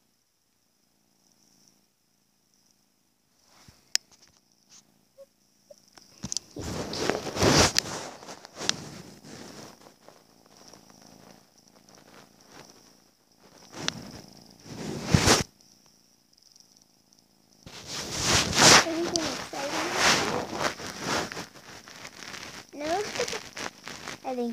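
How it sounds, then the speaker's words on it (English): A cat purrs softly up close, a low steady rumble under intermittent rustling and handling noises, while a person speaks now and then. "I don't know if you can hear him purring or not, but he's purring"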